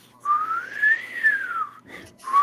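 A single person whistles one clear rising-then-falling call, held for over a second, followed by a brief second note starting at the end, close and loud with no talk.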